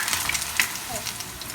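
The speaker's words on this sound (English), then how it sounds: "Meanwhile, while these koftas are frying," Ghiya koftas frying in a pan of hot oil, a dense continuous close sizzle with crackling pops throughout, loud and steady.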